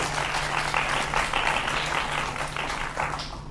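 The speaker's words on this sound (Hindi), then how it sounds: "भगवान की जोरदार तालियां इस बात पर जी।" Steady audience applause at a televised Hindi political debate show, dense and continuous clapping from a crowd with a faint low hum underneath, fading slightly toward the end.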